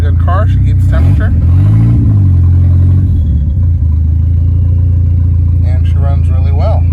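A Starquest car engine idles loud and close with a steady low rumble, blipping up briefly once before settling back, with some mechanical clatter on top.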